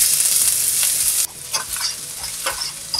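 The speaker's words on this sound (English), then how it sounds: "The first thing to do is to get the wok on a medium heat and fry off some ginger" Finely minced fresh ginger fries in about a tablespoon of vegetable oil in a wok over medium heat, a close, steady sizzle broken by bursts of stirring and scraping, with no one talking.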